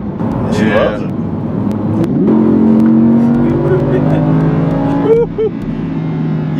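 A 2017 Audi R8 supercar engine revs in sport mode, a loud, steady rising drone with a brief throttle blip near the end, heard from inside the car under someone talking.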